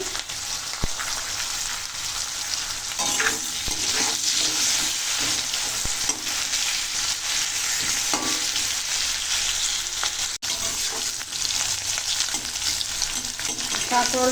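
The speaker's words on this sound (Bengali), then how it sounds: "এখন কাঁকড়োল ভেজে নেবো" Kakrol (spiny gourd) frying in a pan, with a steady, dense sizzle holding close and loud throughout, broken by occasional stirring clinks and scrapes.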